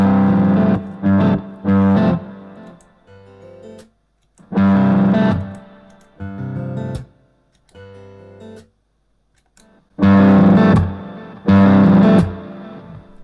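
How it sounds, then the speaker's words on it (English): An acoustic guitar played through an under-saddle pickup with distortion added from an Elite Acoustics StompMix X4-2 Pro digital mixer pedal gives loud, gritty strummed chords in separate bursts with silent gaps between them, and no talk. "So if I put some distortion on channel 1,"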